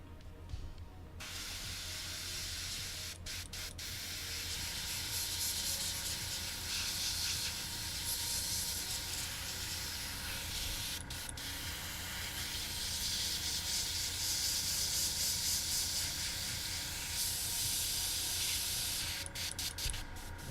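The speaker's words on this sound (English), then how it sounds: "I'm gonna try running some alcohol through the airbrush, see what that helps with." Steady airbrush hiss as alcohol is run through it to clean it while painting a 251 halftrack rocket mortar model, loud and continuous with a few brief breaks in the spray.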